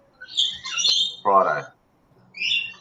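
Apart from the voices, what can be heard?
birds chirping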